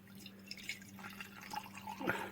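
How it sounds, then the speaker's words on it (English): Water poured into a salt solution being prepared for electrolysis, giving soft close-up splashing and dripping that runs steadily for about two seconds and swells slightly near the end. "Now we're going to put in some water."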